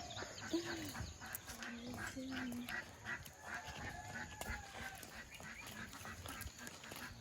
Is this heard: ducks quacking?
yes